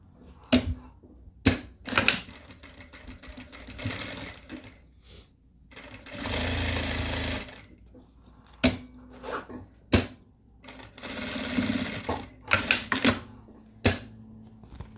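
Sewing machine stitching the lining and interfacing of a zippered accordion wallet, running in short bursts with longer steady runs between pauses, close and clear with no talk.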